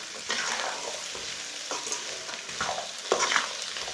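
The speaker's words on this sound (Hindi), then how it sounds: "ऐसे इसे चम्मच चलाते हुए भून लेना।" Vegetables sautéed with salt, red chilli powder, turmeric and whole cumin for macaroni, stirred with a spoon in a pan, give a steady sizzle broken by repeated scraping strokes, close and moderately loud without talk.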